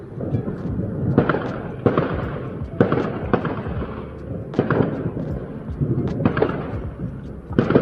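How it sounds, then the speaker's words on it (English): Fireworks bang and crackle repeatedly at a New Year's Eve celebration, a rapid irregular volley of booms and pops echoing at moderate distance, with faint voices in the background. "Mooie vuurwerk toch?"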